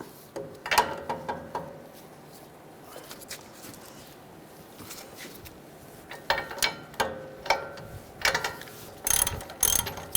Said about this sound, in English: We're going to take this nut off, use a 21mm socket.